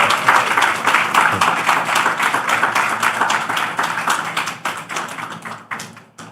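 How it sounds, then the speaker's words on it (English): A room of attendees claps for a birthday at the Nature Positive Pavilion at COP16, a lively, fairly close patter of many hands that holds strong and then tapers off into sparse claps near the end. "maybe we could give Shirley an applause for happy birthday"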